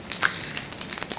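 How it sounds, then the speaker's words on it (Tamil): Mustard seeds hit hot oil in a pan and set off a brisk, uneven crackle of small pops and sizzles. The spattering is close and continuous. "இதில் சூடான எண்ணெயில் தேவையான அளவு கடுகு சேர்த்துக்கலாம்"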